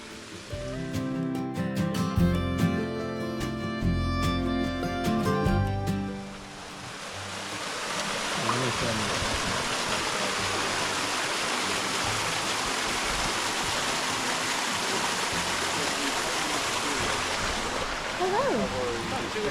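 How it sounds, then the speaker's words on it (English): Cascade Falls on the Pine Mountain Trail roars as a dense, steady wash of falling water, taking over after an opening stretch of music and voices heard close by. "this is where the last waterfall is"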